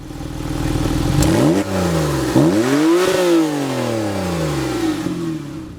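A turbocharged 2017 Porsche 911 engine revving on a track, loud and close, with repeated rising and falling sweeps as the revs climb, drop with gear changes and climb again.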